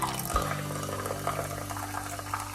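Soda pours into a glass, a continuous watery splashing and fizzing stream heard close up for a couple of seconds with no talking.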